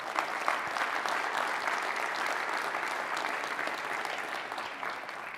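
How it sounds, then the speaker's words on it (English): A large keynote audience at ng-conf 2025 applauds steadily with dense, even clapping that holds at a constant level throughout before tapering slightly at the end. "Let's give them a round of applause."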